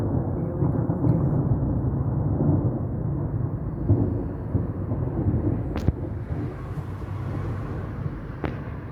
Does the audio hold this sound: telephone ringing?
no